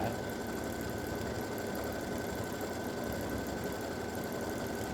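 An embroidery machine stitching a hummingbirds and hibiscus edge-to-edge quilting design gives off a steady, continuous mechanical hum and whir with fast stitching vibration, unbroken throughout.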